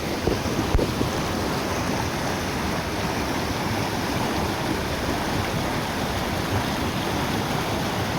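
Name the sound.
river water flowing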